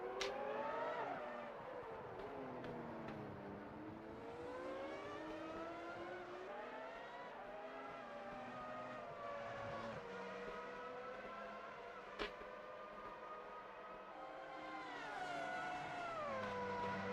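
Race car engines in the video game Automobilista 2 roar and rev, pitch sweeping up and down as they accelerate and shift, a continuous whine with no talking.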